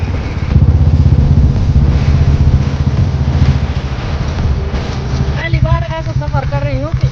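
A motorcycle carrying four riders hums along a village road, a low steady engine rumble close by, with women chatting over it toward the end.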